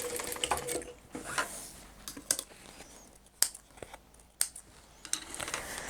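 A sewing machine stitches a curved seam on a cross-body bag in short, quiet bursts, with small clicks and fabric handling between the runs of stitching.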